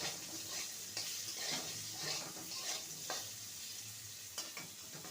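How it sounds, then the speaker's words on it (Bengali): White radish pieces fry in a pan as the first step of a Bengali sour fish dish, a steady close sizzle broken by a few sharp scraping stirs of a spatula. "মূলোটাকে ভেজে নেব"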